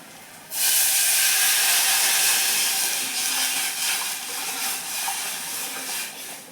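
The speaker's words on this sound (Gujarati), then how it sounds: "હવે આ વઘારની અંદર આપણે છાશ એડ કરી લેશું" Buttermilk hits a hot turmeric tempering in a pan for kadhi with a sudden loud sizzling hiss that starts abruptly, then settles into a steady bubbling sizzle that slowly fades.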